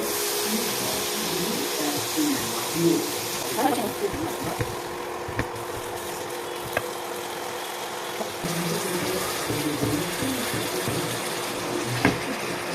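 Water pours and splashes into a pot of chicken curry with salt, chili and turmeric in a steady trickle, with a few clinks and kitchen sounds along the way.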